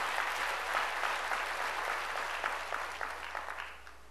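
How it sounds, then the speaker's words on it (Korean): A church congregation claps together to give glory to God during a sermon, a moderate, fairly distant roar of hands that swells, holds, then thins into scattered claps and fades toward the end. "박수로 하나님께 영광 돌리라는 거예요"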